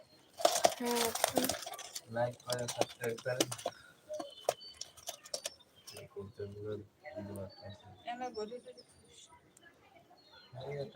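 Pigeons coo in short, low repeated calls, quiet and close, while people talk intermittently and small clinks and chirps sound around them.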